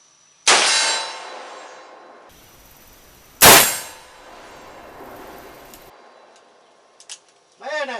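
.44 Magnum shots striking a steel silhouette target at 50 yards, two sharp metallic clangs that ring out and fade, followed by faint clicks and a brief voice.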